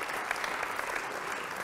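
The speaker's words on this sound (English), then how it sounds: "one final round of applause for all of our wonderful sponsors" Steady applause from a crowd at a science live stream event, dense clapping sustained throughout at moderate volume with no voices rising above it.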